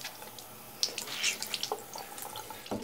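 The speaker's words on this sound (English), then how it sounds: "it's filling up with water, and then I simply squeeze it out" Tap water streaming onto a beauty blender makeup sponge at a sink, a steady hiss with scattered drips and splashes, fairly faint and close, with no voices.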